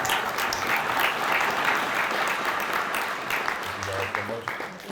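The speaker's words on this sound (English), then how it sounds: "Can we clap it up for our guests?" A room full of people claps and cheers in a sustained burst of applause, loud and steady throughout.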